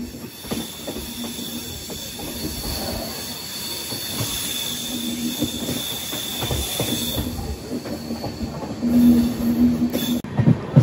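The Bengaluru to Tirupati intercity train rolls along with loud metallic wheel squeal and rumbling carriages, a steady close roar with rising screech near the end, no voices.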